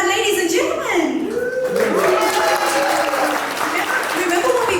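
Wedding guests applaud in a steady, dense round of clapping, with a voice speaking over it at the start and the applause sustained throughout.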